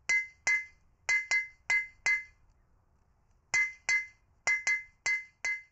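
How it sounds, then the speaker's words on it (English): A blacksmith's hammer strikes hot metal in a coal-fired forge, ringing out in clear metallic clinks grouped in pairs and short bursts, with a pause between two runs of blows, close and with no voices. "I need to hit the metal some more."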